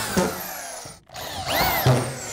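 A power drill drives 1¼-inch screws into half-inch drywall on a curved framed wall, with short whirring bursts that rise and fall in pitch, broken by a brief pause midway, close and fairly loud.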